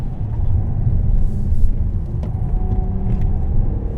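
A 2016 Jaguar XF 35t R-Sport threads back-and-forth tight turns, its engine a steady, loud low rumble heard from inside, with faint tire and road noise and no talk.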